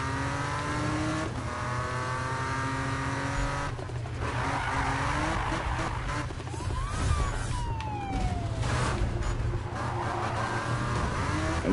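Need For Speed video game race, with a loud continuous engine roar, revving pitch sweeps, screeching tire skids and a wailing police siren layered together.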